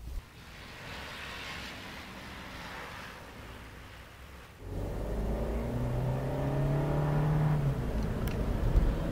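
A Fiat 124 Spider MultiAir 140 hp Lusso Plus on a race circuit: a low, muffled engine hum that steps up sharply halfway through into a louder, rising acceleration with a climbing engine note.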